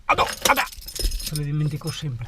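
Car keys jangle loudly close by in bright metallic bursts, then a person speaks over the last part.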